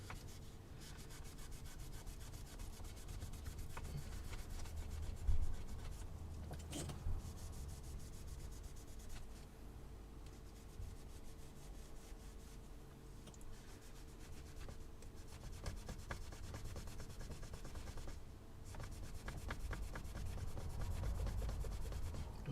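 Steady, close rubbing and scrubbing by hand across the metal lid of a Pioneer SX550 receiver, a continuous gritty friction sound that swells and eases with the strokes, with no talking.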